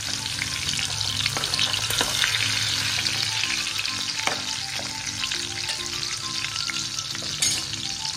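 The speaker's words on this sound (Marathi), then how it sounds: "लसूण आता परतवून घेऊया आपण।" Garlic sautéing in a pan over a low flame for fish egg masala, a loud continuous frying sizzle with stirring scrapes throughout and no talk.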